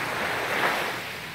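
Surf rolling onto Patong beach from the Andaman Sea in Phuket, Thailand: a steady broadband wash of waves with a gentle swell in the middle and some wind rumble, continuous with no voices.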